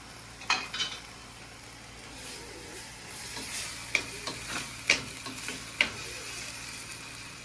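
Curry chillies sauté in a clay pot for a Sri Lankan prawn curry, a low steady sizzle broken by several sharp scrapes and taps of a stirring spoon.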